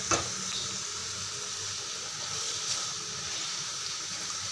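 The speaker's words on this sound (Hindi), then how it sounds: "अब मैं इसको फ्राई कर रही हूँ" Chicken frying in a pan after being sautéed with garlic-ginger paste for a white creamy handi, a steady close sizzle with a faint stir near the start and no talking.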